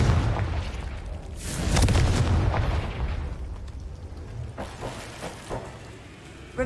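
A Confringo blasting spell explodes in the Hogwarts Legacy video game, a loud booming burst that swells and then rumbles away, followed by fainter scattered pops and game effects.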